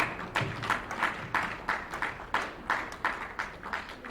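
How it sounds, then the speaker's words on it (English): Scattered audience clapping at a distinguished ceremonial gathering, a modest round of applause with uneven bursts and claps close and distinct rather than a dense roar. "another round of applause for them"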